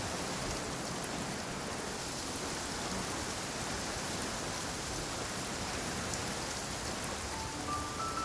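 Rain falls steadily in the Genshin Impact video game, a dense continuous hiss of drops on surfaces that stays even throughout, with no talking.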